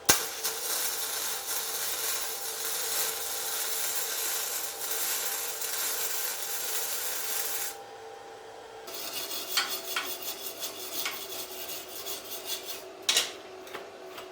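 Gasless flux-core MIG welding at a minimum 50 amps and 16.5 volts with a budget miniature 3-in-1 semi-automatic welder: a steady, close crackling hiss that drops out briefly near the middle, then resumes with sharper pops.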